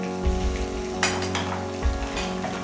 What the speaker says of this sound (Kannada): ಹಸಿಮೆಣ್ಸಿನ್ಕಾಯಿನ ಎಣ್ಣೆನಲ್ಲಿ ಫ್ರೈ ಮಾಡೋದ್ರಿಂದ ಹಾಗೆ ಕೂಡ ತಿನ್ಬೋದು